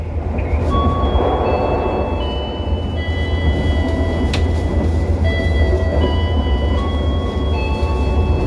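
The Argo Bromo Anggrek intercity train rolls steadily just after leaving Surabaya, a continuous loud low rumble of wheels and carriage noise with faint squeals and hums throughout, heard from inside with no talking.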